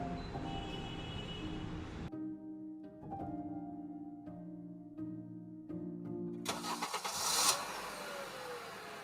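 A car engine cranks and catches after a burst of noise, then idles with a steady harmonic drone and small rises in pitch before a loud rev near the end, heard up close with no talking.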